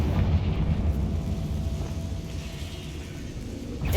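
A Confringo blasting spell from Hogwarts Legacy erupts as a dense, loud, continuous roaring explosion with heavy low rumble that holds for several seconds.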